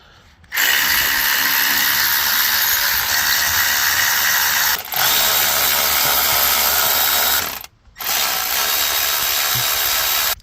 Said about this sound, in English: with a regular ratchet and a 12mm, you're gonna remove those 4 bolts